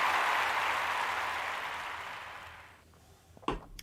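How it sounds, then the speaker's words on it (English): An audience at a weekly webconcert of original music applauds, the dense clapping loud at first and then gradually fading away before a few stray sounds at the end. "thank you for the applause, Tony."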